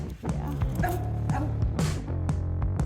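A hound dog barks and yips repeatedly outdoors at night during a wild hog trapping outing, with sharp, loud, close calls in quick succession.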